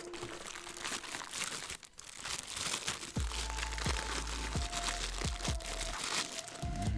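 Tape is peeled and plastic wrapping is crinkled off a new MXL 990 microphone, close by, with steady crackling and several sharp tearing rips, and no talk.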